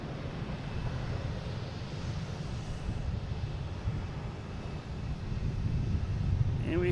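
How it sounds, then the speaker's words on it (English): An Air Canada Airbus A220 takes off at Boston Logan, its low jet rumble steady and moderately distant, swelling a little toward the end, with a faint gust of wind on the microphone. "we have Air Canada taking off, heading to Toronto. An A220"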